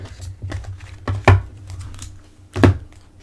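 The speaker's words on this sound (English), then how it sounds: "I didn't shuffle these off camera, but for your viewing pleasure, I'll do it once here." A deck of oracle cards is shuffled by hand, soft riffling and papery shuffles punctuated by two sharper thumps as the cards are knocked together, close and quiet with no talking.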